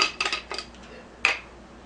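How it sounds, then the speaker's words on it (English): The plastic lid of a Kangen E-cleaner cartridge is twisted off, giving a few short scraping clicks close up, then a sharper click after a brief pause, in a quiet room. "Just unscrew the lid right here."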